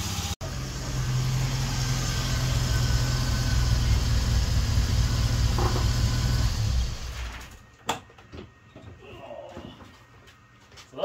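A car engine running after tuning of a new AC Dodd HIF44 carburetor, a steady low rumble for about seven seconds that then cuts away to quieter, scattered sounds.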